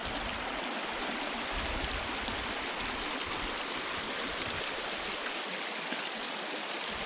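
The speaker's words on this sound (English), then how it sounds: "this amount of water right here just comes right out of the rock" Spring water pours steadily straight out of a rock face in the mountains, a continuous broadband rushing and splashing like a small stream, close and even throughout with no voices.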